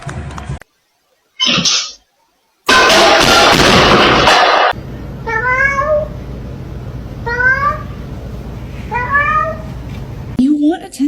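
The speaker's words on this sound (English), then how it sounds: "You want attention, but you're just gonna hiss at me." A cat hisses in sharp bursts, then gives a string of clear, close meows repeated several times, with a person talking near it.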